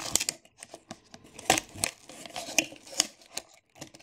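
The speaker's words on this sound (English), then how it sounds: "I am just going to try and snip these." Scissors snipping at twist ties holding action figures in toy packaging, a run of sharp, close metallic clicks and crinkly plastic rustles in an uneven rhythm, fairly quiet overall.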